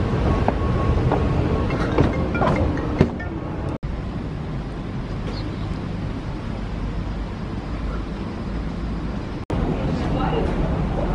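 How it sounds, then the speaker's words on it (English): Metro train station ambience, a dense, steady rumble and hiss of trains and crowd with scattered clatters and two brief dropouts, under occasional talk. "I'm in the metro."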